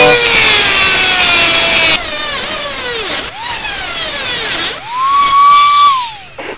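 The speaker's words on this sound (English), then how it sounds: "what I'm actually going to do is I'm going to take the Dremel and I'm going to actually do some little surgery on it here" A Dremel with a cutting disc grinds into a storage locker padlock, a loud, close, high-pitched whine that dips in pitch as it bites into the metal and rises again between several cuts.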